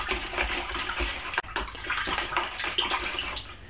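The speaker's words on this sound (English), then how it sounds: "pour it in, and stir vigorously" Beer-based film developer solution poured into a container and stirred hard: continuous close sloshing and swirling liquid with brief clinks and a short dip midway.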